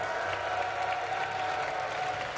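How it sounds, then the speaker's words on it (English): An arena audience at an LCS 2013 EU Summer esports match between Evil Geniuses and Fnatic claps and cheers in a dense, continuous roar of applause. "give them a cheer, guys."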